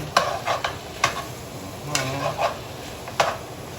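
Pork back ribs being sautéed in a light pan, with a few sharp scrapes and clinks of a utensil stirring over a soft sizzle, close and spaced irregularly, no talking.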